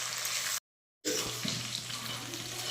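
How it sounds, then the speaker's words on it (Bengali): Garlic, onion, ginger and tomato fry in white oil in a home kitchen, giving a steady close hiss and sizzle broken by a brief silent gap. "এগুলো ভালো করে ভেজে নেব।"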